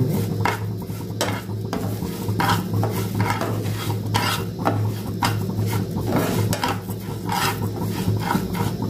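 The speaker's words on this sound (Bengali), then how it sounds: "বাটারটা দিয়ে আমি চালটা ভালো করে ভেজে নিচ্ছি" Gobindobhog rice fries in melted butter in a pan, a constant close sizzle with rhythmic scraping strokes of a spoon stirring the grains throughout.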